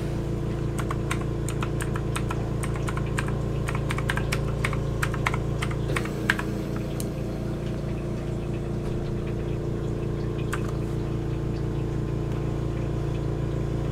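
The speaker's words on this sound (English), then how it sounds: "I'll type it to you." Keys clatter on a computer keyboard in quick, uneven bursts of close typing, pausing briefly midway, over a constant low engine-like hum.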